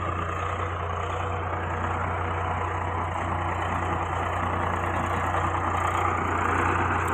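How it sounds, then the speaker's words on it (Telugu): A truck engine idles and rumbles steadily close by on a site where material is being packed down by tractor, a constant low drone with no speech. "చూడు బండి వస్తుంది"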